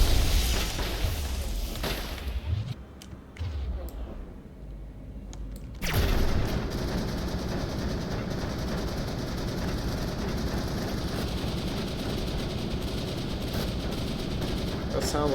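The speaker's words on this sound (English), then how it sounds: "That sounds like a sniper." Gunfire in Mass Effect, a combat exchange against Krogan and Geth with a squadmate's weapon overheating: loud bursts and booms at the start, a brief lull, then a sustained dense rattle of shots running to the end with speech mixed in.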